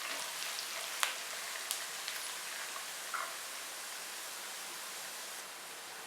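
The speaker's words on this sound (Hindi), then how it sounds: "अब इसमें साबुत गरम मसाला डालेंगे और इसको भी 1 मिनट के लिए फ्राई" Whole garam masala crackles and sizzles in hot oil with lightly browned onions, a soft continuous frying hiss with a few sharper pops early on.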